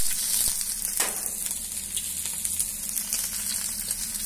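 Onion sizzling in hot oil already seasoned with mustard seeds, curry leaves and red chili, a steady close crackling fry with a soft stir around the one-second mark, no voices.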